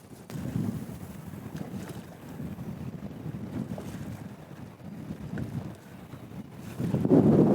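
Strong wind of around 35 mph sweeps across a lake past a fishing boat, a steady low buffeting rumble that rises and falls in gusts and swells louder at the end, with no voices.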